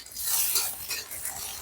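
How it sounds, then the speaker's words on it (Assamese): Sliced onions and green chillies, with bay leaves, sizzle steadily in hot oil in a pan, a continuous bright hiss with faint stirring scrapes, close and alone. "মই পিঁয়াজ জলকীয়াখিনি ৰঙাকৈ ভাজি ল'ম।"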